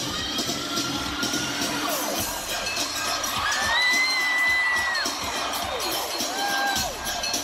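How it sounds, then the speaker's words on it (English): Live concert crowd at a performance in Detroit, screaming and cheering loudly and continuously, with high-pitched individual screams rising above the steady roar of the audience. "nobody screams, and there's a scream"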